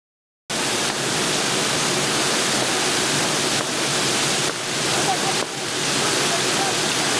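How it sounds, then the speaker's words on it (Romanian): Hot water gushes steadily from a burst district heating main at Craiova, a loud, continuous broadband roar like a waterfall that holds unbroken for several seconds with slight surges. "o magistrală a cedat și s-a transformat într-o veritabilă fântână arteziană"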